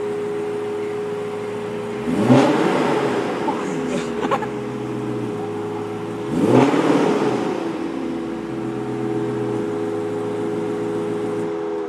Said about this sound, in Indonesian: Ya suaranya ajaib banget sih V8 ya